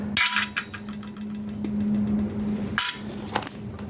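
Brass piece being wrenched off scrap metal, two sharp metallic clanks with a few lighter clinks and scraping between them, close and clear over a steady low hum.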